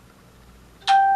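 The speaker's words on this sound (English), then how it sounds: "That's my phone chiming." A mobile phone gives a short bright notification chime that cuts in suddenly after near silence and rings on, clear and close.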